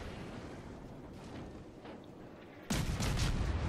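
Ship guns fire at the destroyer Wickes in the naval game World of Warships, a sudden loud boom erupting after a low rumbling lull and carrying on as a sustained roar.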